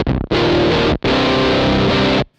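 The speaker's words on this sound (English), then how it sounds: "I love those kind of degraded sounds that you can get from any form of pedal like" Heavily degraded, distorted guitar tone through a Gamechanger Audio Plasma Pedal, loud and dense in two sustained bursts broken by a brief gap, with no talking.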